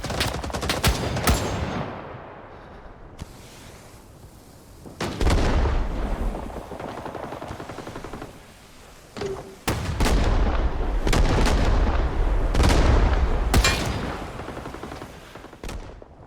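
Gunfire and booming shots echo through a Rising Storm 2: Vietnam battlefield, loud sharp cracks with long rolling decay, spaced irregularly among distant volleys and rumbles, including a sniper rifle's long shot.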